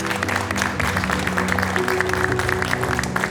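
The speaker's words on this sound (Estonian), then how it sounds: "Teeme suure aplausi." Audience applause at a youth skills competition ceremony for warehouse workers, steady clapping from a crowd heard over a sustained musical tone in the background.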